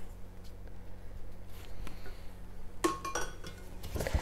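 Ambrosia salad with cherries and syrup being mixed with a spatula in a bowl, giving a quiet scraping under room noise, then a burst of clinking and scraping near the end.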